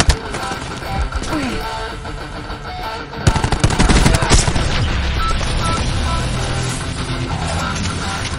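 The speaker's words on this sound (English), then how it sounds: "Cluster grenade going out" Cluster grenade thrown in Call of Duty Black Ops, heard amid continuous machine-gun fire and a burst of explosive blasts, loud and dense throughout with game voices mixed in.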